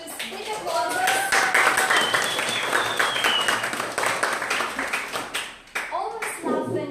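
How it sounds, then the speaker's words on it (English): Big applause greets a humorous speech contest, a dense steady wash of clapping from the audience lasting several seconds, with voices and cheers mixed in near the end. "So please greet this great event with big applause."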